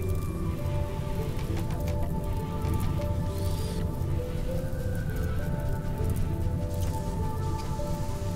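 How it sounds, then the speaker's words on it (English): Steady rainfall in the colony-building game Rimworld patters continuously throughout, mixed with soft game music and no speech. "Oh, thank God for the rain."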